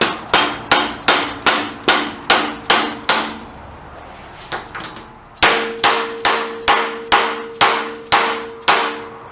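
Steady hammer blows on an alloy part of a BSA B50T motorcycle, sharp ringing strikes in an even rhythm, a run of about eight, a short pause, then about eight more, loud and close with no speech.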